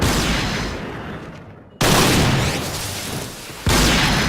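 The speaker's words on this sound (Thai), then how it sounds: "กล็อกสิบแปด ปืนสั้นด้วย ตัวปืนสั้นยิงตาย" Glock 18 pistol fire in the video game Point Blank: two loud, abrupt bursts of gunfire, each starting sharply and trailing off into a roaring decay, with no talking.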